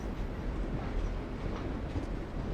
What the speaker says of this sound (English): A moving train, that is.